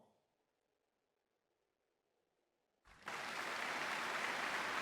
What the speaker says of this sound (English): Why did the clapping like start?